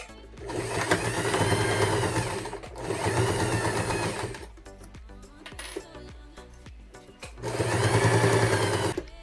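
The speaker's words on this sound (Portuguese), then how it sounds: "Agora que eu já fiz a minha costura desse lado" A sewing machine stitching fabric for a cloth phone wallet, running in steady mechanical whirring bursts close up, pausing briefly between passes.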